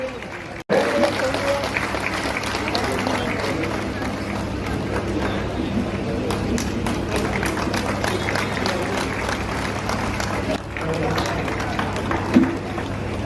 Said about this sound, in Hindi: तालियों के साथ हम लोग आदरणीय दोनों मंत्री साहब का स्वागत करें